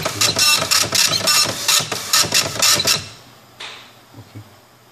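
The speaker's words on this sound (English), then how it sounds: "So now printing procedure will be carried out." A receipt printer runs off a milk collection bill in a fast, loud burst of rhythmic mechanical chattering for about three seconds, then stops, leaving a few faint clicks and quiet mechanism noises.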